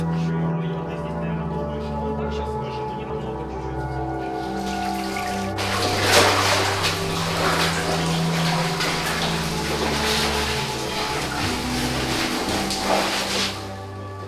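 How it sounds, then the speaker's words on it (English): Water flowing and splashing through a pipe in an abandoned underground dungeon, a continuous trickling rush with hollow echoing drips that grows louder partway through, alongside a steady low hum. "a pipe was made in the backfill so that water could pass freely"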